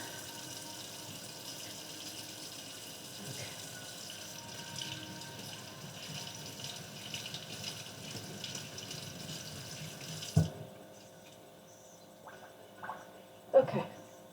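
Water runs steadily from a tap while freshly dyed yarn is rinsed, a soft continuous splashing that stops partway through, followed by a few faint knocks and clunks.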